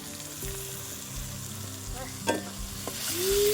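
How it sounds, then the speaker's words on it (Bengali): Ginger paste, chopped onion and green chili sizzle as they are fried and stirred in a pan, with a steady close-up hiss and occasional scraping of the spoon and no talk. "আদা বাটা, পেঁয়াজ কুচি, অল্প একটু কাঁচা লঙ্কা দিলাম।"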